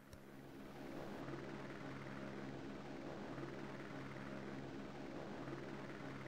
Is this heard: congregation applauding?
no